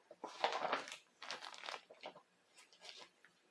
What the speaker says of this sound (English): like to keep stuff in bags, like plastic bags, so I can see through them